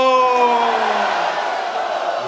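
A crowd at an outdoor political rally in Abbaspur chants a Bhutto slogan, a loud sustained roar of many voices with a strong leading call whose pitch slides downward, close and continuous throughout.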